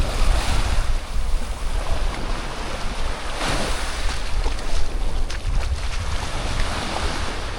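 Ocean surf washes steadily onto a Playa del Carmen beach where sargassum is coming ashore, a continuous roar of breaking waves with strong wind buffeting the microphone and no voices.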